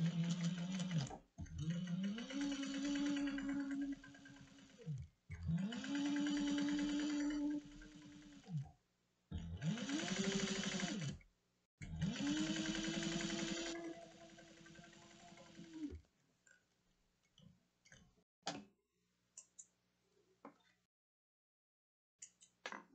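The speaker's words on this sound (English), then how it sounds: "we're going to top stitch at 1/8 of an inch" A sewing machine top stitches a cross-body sling in four bursts of whirring motor hum with rising and falling pitch, separated by short pauses, followed by a few faint clicks and handling sounds.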